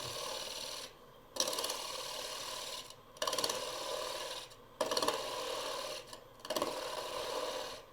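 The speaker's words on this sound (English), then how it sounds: "Making shavings by just going into the side of the tree again" A woodturning tool cuts shavings from the side of a tree crotch spinning on a lathe, giving rough rasping scrapes in four long passes split by brief pauses, close and fairly loud.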